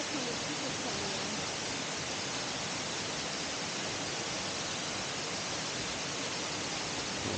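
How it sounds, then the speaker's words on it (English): Aysgill Force near Hawes in the Yorkshire Dales pours steadily, a constant, even broadband rush of falling water that stays uniform throughout, fairly faint and without any voices. "There's a second little waterfall under that tree."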